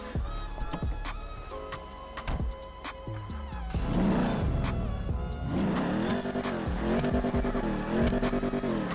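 A Mercedes GT63S engine in a video game, GTA 5, revs hard, its pitch climbing and dropping in repeated surges, loud and close, with a few sharp mechanical clicks early on.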